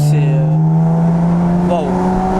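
A BMW M3 or M4 on a track day, its engine droning steadily with a strong low hum and a brief pitch shift near the end, under a voice talking close by.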